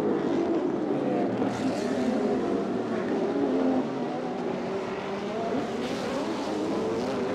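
Lamborghini Huracan and Super Trofeo race cars lead a pack at the Bangsaen street circuit in Chonburi, their engines a sustained loud roar that rises and falls as they pass, mixed with other cars.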